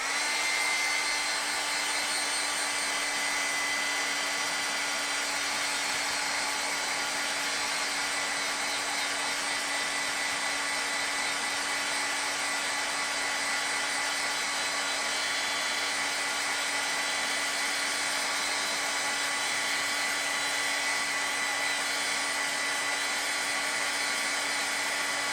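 A hair dryer blows steadily on a painting, a loud constant whirring hum that runs unbroken for the whole stretch with no talk.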